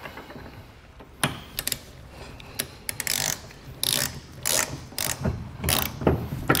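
A ratchet tightens bolts on a trailer hitch receiver during installation, giving bursts of rapid close clicking in uneven runs separated by short pauses, with no talking.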